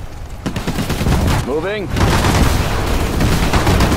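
Gunfire in the Sudden Strike 4 strategy game, infantry versus tank skirmish: dense continuous rattling shots and bursts, loud throughout, with a brief voice command spoken over the battle.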